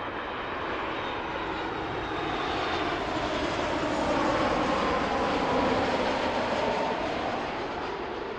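An Air Canada airliner takes off from runway 05 at Toronto Pearson airport, its engines a loud, broad, sustained roar that swells slightly mid-way and holds steady, with no voices.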